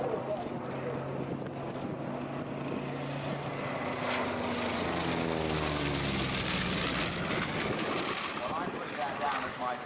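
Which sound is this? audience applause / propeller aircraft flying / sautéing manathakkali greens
propeller aircraft flying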